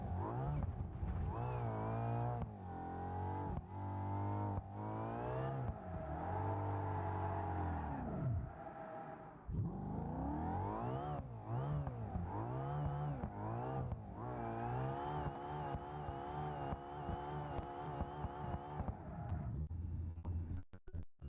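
Naturally aspirated car engine in BeamNG.drive, no turbo or supercharger, revving hard and repeatedly, pitch climbing and dropping through gear changes, loud and close with no voices.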